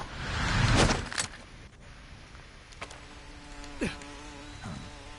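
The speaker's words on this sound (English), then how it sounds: "Damn it. Not the bees again." A buzzing bee swarm from Metal Gear Solid 3 drones faintly in the background, with a few sharper clicks and thuds over the hum.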